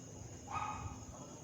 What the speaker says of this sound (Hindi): ये जैसे कुत्ता भौंक रहा है ना